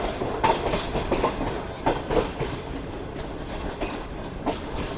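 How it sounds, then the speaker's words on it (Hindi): The Awam Express passenger train approaches on the loop line at a Pakistani railway station, a steady loud rumble with repeated clickety-clack of wheels over rail joints and a faint squeal, heard alone without speech. "14 टाउन अवाम एक्सप्रेस है जो कि इस वक्त हमारे सामने से आ रही है"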